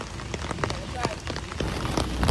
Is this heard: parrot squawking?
no